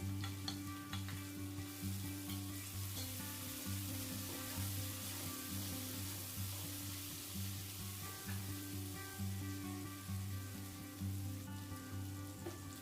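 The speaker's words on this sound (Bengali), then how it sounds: "পেঁয়াজটা কিছুক্ষণ নাড়াচাড়া করে নিয়েছি এবার এখানে থেতো করে নেওয়া রসুনটা মিশিয়ে নিচ্ছে" Sliced onion and crushed garlic stir-fried in a pan for a dry cabbage curry, with a continuous crackling sizzle and occasional soft spatula scrapes over a steady low hum, moderately close but quiet.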